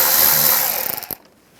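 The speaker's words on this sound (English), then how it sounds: "Use a T20 socket," Power driver with a T20 socket backing a screw out of a 1999-2005 Volkswagen Jetta side mirror: a short, steady high whir that sputters and stops within about a second.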